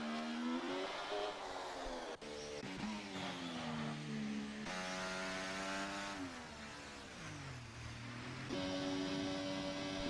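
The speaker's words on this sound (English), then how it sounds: "What have they done to the Ferrari engine?" A Ferrari engine in a racing video game, set at Miami, revs up and down through gear changes; a loud, buzzy, high-pitched whine that climbs and drops repeatedly, with brief tire or surface noise and no talking.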